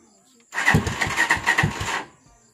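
A motorcycle fitted with a Z200 remote-start alarm and a weak battery cranks over in a rapid, sluggish pulsing run of about a second and a half, close and fairly loud, with talk around it.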